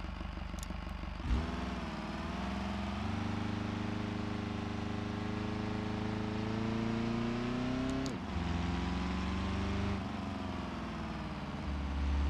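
Worn-out diesel turbo engine in a BeamNG.Drive project car that is burning oil, revved steadily and held at high revs for long stretches, a buzzy droning tone that drops and climbs again in a few distinct swells.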